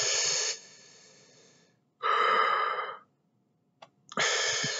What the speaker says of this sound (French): Ça, c'est la respiration abdominale.